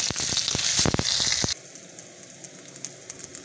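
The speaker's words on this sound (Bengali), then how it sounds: "পটল আলু ভাজা হয়ে গেছে, তুলে নিচ্ছি" Potatoes and pointed gourd sizzle loudly in oil in a pan for about a second and a half with crackling pops, then the sound drops to a faint, sparse hiss.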